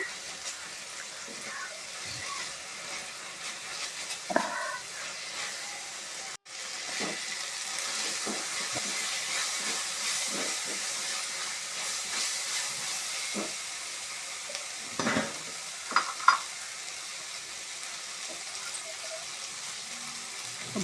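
Chicken liver frying with amaranth leaves in hot oil, a steady hiss and sizzle close by with occasional louder spits and pops, continuous and moderately loud throughout.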